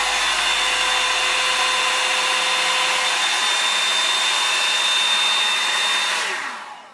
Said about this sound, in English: It does sound like a hairdryer, not as loud as a hairdryer, but it's still quite noisy